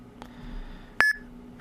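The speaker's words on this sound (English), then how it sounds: "And you'll hear a little beep sound." A single short electronic beep rings out clearly over faint background hum, with a soft click shortly before and after, as a bitcoin payment is sent.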